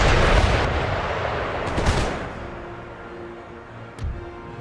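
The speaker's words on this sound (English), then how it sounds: "The howitzers are in range. Maintain fire." Howitzer artillery fire in the Empire Total War video game: a loud booming volley opens and rolls away, then sharp cracks follow near two seconds and a lone distant report near four seconds.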